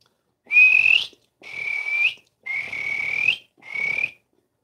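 A voice imitating a mallard duck call: four separate drawn-out, reedy whistling notes with short pauses between, close and clear with no other sound.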